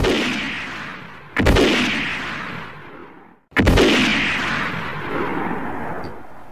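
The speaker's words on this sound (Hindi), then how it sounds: "पुलिस ने उन पर कई फायर किए" Two loud police gunshots, each a sharp crack followed by a long booming decay, spaced about two seconds apart with no voices.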